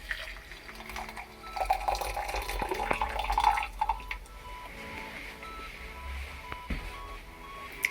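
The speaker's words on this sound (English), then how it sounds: "top it up with 150 ml of just boiled water" Just-boiled water, about 150 ml, pours over tea leaves in a cafetiere in a steady stream with a gurgling, splashing trickle that rises in pitch and then quiets, followed by faint clinks.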